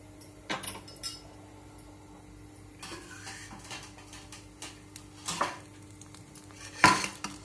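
A kadhai being set on the stove to heat, with a few sharp metallic clanks and clinks of cookware spaced across an otherwise quiet kitchen.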